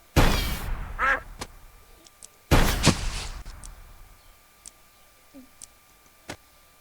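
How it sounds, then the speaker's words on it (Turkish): In the video game Gun Blood, a bird perched on a wire is shot: two loud, sharp gunshot blasts about two seconds apart, with a short squawk between them, then small faint clicks and ticks in a quiet background. "Siz şimdi bir telde duran bir kuşa vurdunuz öldürdünüz."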